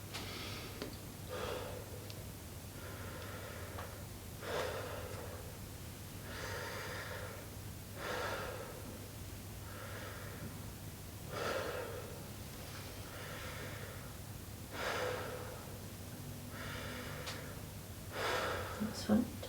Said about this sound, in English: You could just keep breathing in and out through your mouth